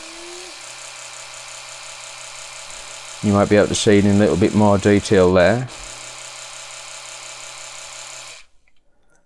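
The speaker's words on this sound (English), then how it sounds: "if you press it a second time after you've switched it on, that'll go on to gum care, so you'll be able to hear the little tone change" An Oral-B Pro 2 2000N electric toothbrush hums steadily in gum care mode, a close, even buzz with a faintly pulsing tone that runs for about eight seconds and then cuts off, while a person speaks over part of it.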